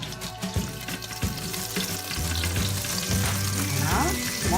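Butter and oil sizzle and crackle steadily in a hot pan, a dense continuous frying hiss with some clinks and stirring, growing slightly louder toward the end.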